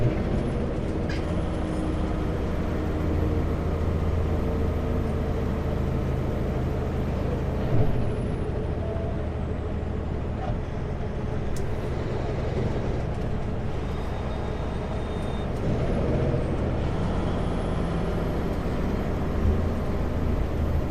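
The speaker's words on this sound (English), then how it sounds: "Hey, that train's moving." A train moving near the Moyie River gives a loud, steady low rumble for the whole stretch, with hissing air-brake releases and squeals rising over it.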